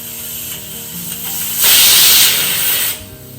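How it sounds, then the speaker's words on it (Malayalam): A pressure cooker cooking dal blows its whistle loudly, a sharp hissing blast of escaping steam lasting over a second, then cuts off, with low rattling beforehand. "മൂന്ന് വിസിൽ വന്നു."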